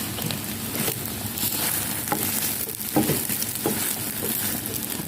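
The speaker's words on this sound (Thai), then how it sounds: "เจียวหอมๆกรอบบนะจ๊ะ" Thai omelette frying in hot oil until crispy, a steady loud crackling sizzle with scattered sharper pops, close up and without speech.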